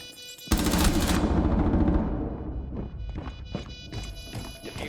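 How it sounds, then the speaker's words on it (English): An MP5 submachine gun fires in the video game Rainbow Six Siege. A loud rapid burst lasts about a second and a half, then scattered shots and thumps trail off over the next few seconds. "Such terrible recoil of the MP5"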